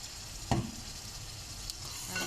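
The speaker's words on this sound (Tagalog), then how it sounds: "haluin ulit natin para ma-combine lahat yung ating inilagay na mga ingredients" Chicken pastil being stirred in a pan after soy sauce, oyster sauce and chicken cube are added, with a distinct scrape near the start and a soft, steady sizzle throughout.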